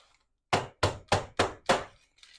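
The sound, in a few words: tapping a pumpkin pie dish to remove air bubbles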